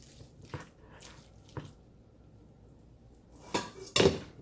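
A spoon stirring noodles in a pot for a cheesy tuna casserole gives a few scattered soft clanks and scrapes, growing louder toward the end against a quiet background.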